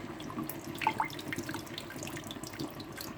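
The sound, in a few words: pouring boiling water onto a bowl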